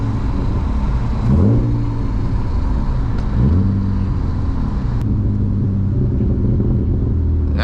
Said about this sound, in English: Downshift back into third.